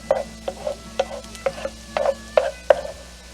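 Vegetables being lifted out of a pan of hot oil for shrimp and grits, a steady sizzle under repeated scraping strokes of a utensil at a regular pace, close and fairly loud, with no talking.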